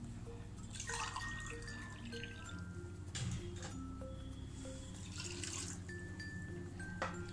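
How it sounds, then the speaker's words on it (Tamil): A glass of water goes into a pressure cooker holding meat with ginger paste, cardamom, cinnamon and cloves for biryani, heard as a close, continuous watery trickle and drip with occasional clinks. "அதோட ஒரு கிளாஸ் தண்ணி"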